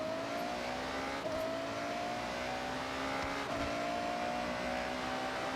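Engine note of a 2015 Ferrari F12 TDF in the Forza Horizon racing game, a sustained high-pitched rev rising steadily across several gear climbs with brief dips between shifts, loud and unbroken with no talking.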